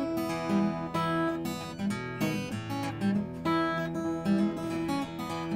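Acoustic guitar strumming the chord progression of a song, steady rhythmic strokes ringing out close and full, played alone with no singing or talk.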